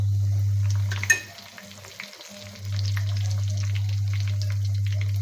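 Cumin, fenugreek and other spices frying in oil for sambar: a steady, loud close hiss of hot oil with a low hum, briefly dropping as an ingredient goes in and a clink sounds, then resuming.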